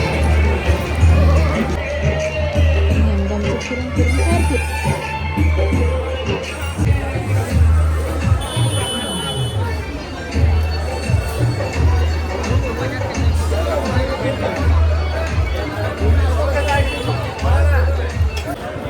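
A bustling crowd at the Badlapur village yatra fair fills the air with steady babble and chatter, many voices overlapping close by while one person talks over the din.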